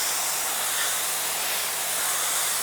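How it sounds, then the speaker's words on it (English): A spray nozzle mists water over germinating mix in a greenhouse seed tray, giving a constant close, loud hiss with no pauses and no talking. "It gives just a mist like this"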